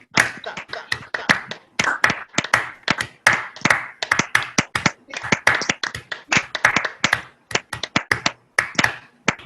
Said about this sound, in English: Could you clap this one, please?